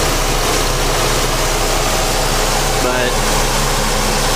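A Pontiac Sunfire GT 2.4L engine with a bad motor mount runs loudly and close up under throttle, giving a constant dense roar, with a brief voice over it.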